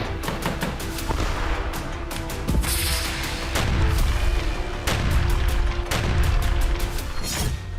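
Wartime blasts and gunfire in Kyiv: repeated sharp, loud bangs and booms arrive every second or so in an irregular barrage, with rattling bursts between them and no speech.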